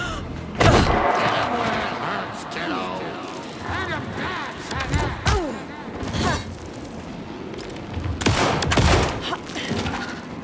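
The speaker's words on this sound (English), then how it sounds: "Anderson, pin him down with gunfire for me to get the light on him." Gunfire in the horror video game Alan Wake II, sharp bursts of shots ringing out in several loud volleys amid tense music and effects, with characters shouting over the action.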